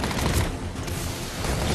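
Rapid bursts of gunfire fill a Batman Arkham Origins fight on the Gotham streets, a dense, continuous clatter of shots at steady loudness with no talk.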